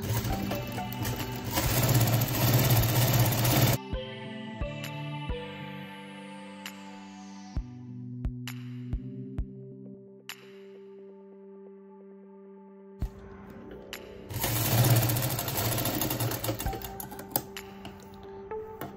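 A sewing machine runs in quick bursts while stitching fabric for a baby cap, loud whirring stretches at the start and end framing a quieter middle of tonal hum and sparse clicks.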